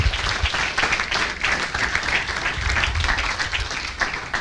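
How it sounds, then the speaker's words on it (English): Church congregation at a Center for Spiritual Living service giving a song performer a sustained round of applause, dense steady clapping at even loudness from start to finish. "So let's give him another round of applause."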